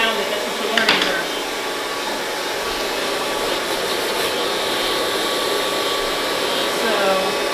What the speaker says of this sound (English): you don't have the dryer on the highest heat?